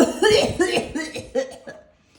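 A voice acts out a harsh, rasping cough in a few rough bursts that fade away into quiet.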